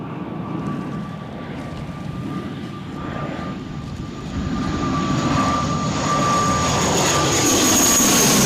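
Aircraft coming in to land at Newcastle Airport in storm wind, a steady engine roar with a thin whine that grows louder and nearer throughout, over gusty wind noise.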